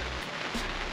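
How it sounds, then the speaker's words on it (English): Heavy rain pours down at a club fishing water during a carp session, a steady dense hiss of drops drumming on surfaces, close and continuous. "It's actually tipping it down with rain at the moment"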